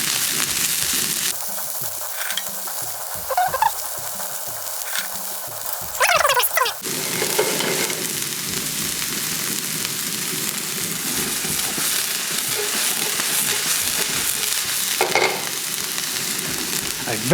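Noodles fry in a fry pan while being stirred, a steady close sizzle with scraping stir strokes, for a Polynesian 'Ohana-style noodle dish.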